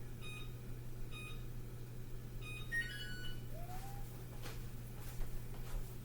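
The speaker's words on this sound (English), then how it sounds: "Setting my timer." A kitchen oven timer being set, giving a few short electronic beeps near the start and a brighter pair of tones a moment later, all over a steady low background hum with no talk.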